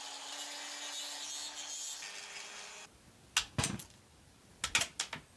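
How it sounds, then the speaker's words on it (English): A handheld saw cuts to enlarge a cutout, a few short, sharp rasping strokes in quick clusters, close, after a steadier hum. "so do a little more cutting."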